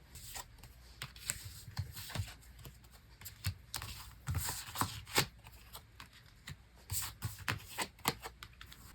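A deck of tarot cards is shuffled repeatedly at close range, giving quiet crisp riffling bursts and soft slaps in an uneven rhythm, with faint talk in the background.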